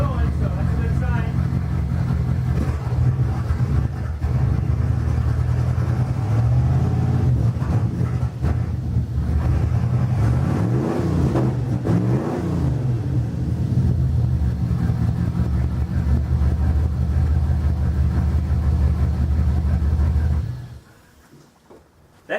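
A Firebird Trans Am engine idling after EGR, radiator and thermostat work, a steady loud rumble with a brief swell of revving in the middle before it cuts off at the end, with voices talking over it.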